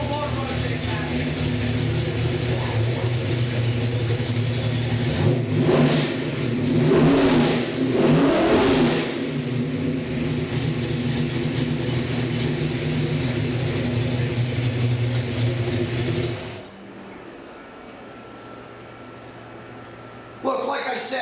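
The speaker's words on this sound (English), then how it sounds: "So I would like to fire this up, let you hear again, one of our 347 engines" A 347 cubic inch stroker V8 crate engine, based on a Ford 302, revs hard several times, then settles into a rough, steady idle before cutting off, with a brief restart burst at the end.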